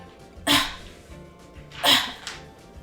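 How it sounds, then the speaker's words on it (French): Air is squeezed from a syringe to simulate a cough in two short, sharp puffs about a second and a half apart, heard alone in a quiet room. "À l'aide de notre seringue, nous allons illustrer Bobby en train de tousser."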